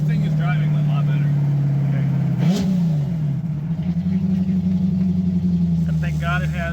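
A 1965 Ford Mustang drives along at a steady engine drone with a brief swell midway, continuous and fairly loud inside the car, with people talking over it.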